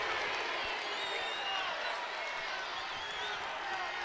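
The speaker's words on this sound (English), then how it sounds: "Crowd getting loud here inside Pinnacle Bank Arena." Crowd cheering at a women's basketball game inside Pinnacle Bank Arena, Northern Iowa at Nebraska, a continuous roaring wash of noise with faint voices in it, steady and full throughout.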